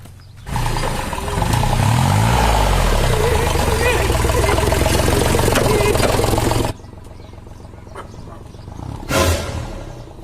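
A tractor engine chugs and idles loudly nearby, its low throbbing drone cutting off abruptly partway through, with a brief burst of noise near the end.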